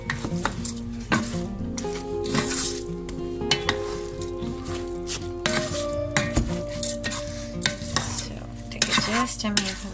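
A spoon stirs a chicken mixture through rice in a pot with margarine, scraping and clinking steadily against the pot over a soft sizzle, close and continuous.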